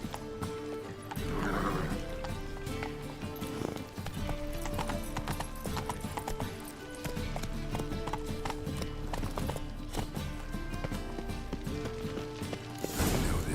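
A horse gallops in The Witcher 3 video game, rapid rhythmic hoofbeats continuing steadily with a whinny early on, set against background music and game sounds, loud and close.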